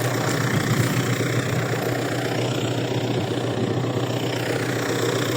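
MTZ tractor engine running steadily in a field after spreading saltpeter fertilizer, a loud, close, continuous low diesel rumble with no talk.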